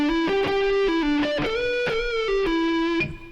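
An electric guitar plays the opening of a song's solo, a run of distinct sustained picked notes with bends, close and clear with a slightly distorted tone, then fading at the end; no talking.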